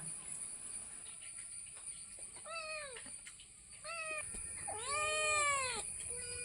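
Two kittens meow repeatedly, drawn-out cries close by, with a steady high insect hum in the background and no talking.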